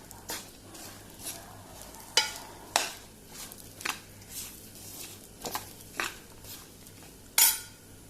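Spoon scraping and clinking against a pan while turmeric is stirred into hot mushroom masala for a Goan mushroom tonak, with the gas off. The scrapes and taps come in an irregular rhythm, close and clear, with faint sizzling underneath.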